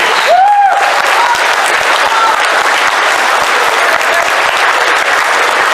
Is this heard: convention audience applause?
yes